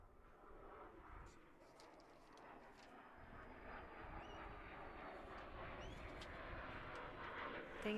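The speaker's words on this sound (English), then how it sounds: "That's a loud plane." A loud airplane drones steadily overhead at an outdoor sheep dog trial arena, a broad engine rumble that swells gradually, with faint voices in the background.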